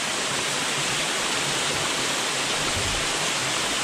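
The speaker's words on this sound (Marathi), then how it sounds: "आता इथे येऊन बसले आणि मागे तो धबधबा आहे" A waterfall roars steadily behind a spot in the Amboli hills near Baba waterfalls, a dense, constant rushing wash of falling water with no pauses, filling the scene evenly from start to finish.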